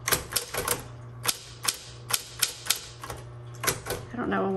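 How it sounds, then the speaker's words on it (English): 1960s Smith Corona Coronet electric typewriter keys strike in an irregular run of sharp clacks, typing in red ribbon, with a steady motor hum underneath and a brief mechanical whir at the end. "let's turn it to red and do some more typing."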